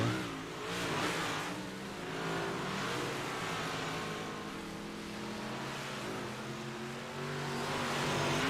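Big block modified race cars lap a track, with a steady roar of engines droning and rising as cars pass, distant and continuous.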